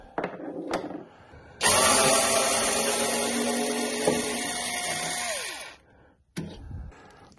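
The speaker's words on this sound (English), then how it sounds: "So bit, power screwdriver" A power screwdriver fitted with a bit whirs loudly and steadily for several seconds, with a pitch drop as it slows, framed by brief clicks and handling knocks before and after, no talking.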